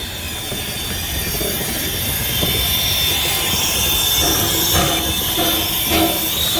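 A vintage steam train on the Glenbrook Vintage Railway rumbles and hisses steadily, drawing gradually closer with a faint squeal of wheels and a few clanking accents near the end.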